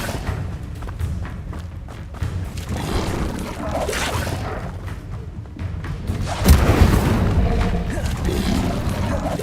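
An Incendio fire spell cast in the game Hogwarts Legacy: deep rumbling booms and thuds roll on over a dense game mix, with a sharp, louder burst around six and a half seconds and a voice talking over the action.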